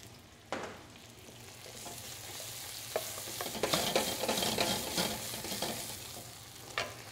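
Lobster and scallions sautéing in a hot pan make a steady sizzle, broken by a few sharp utensil clacks against the pan while stirring, with no voices.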